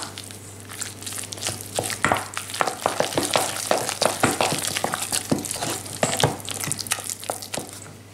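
A spoon works a potato stuffing of cream, bacon lardons, shallot and chives, making a close, wet, irregular run of squelching and scraping strokes.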